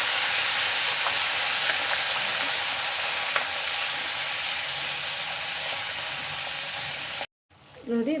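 Chopped ridge gourd for chutney sizzles and hisses as it cooks in a pan, a steady loud frying noise that cuts off abruptly near the end before a voice speaks.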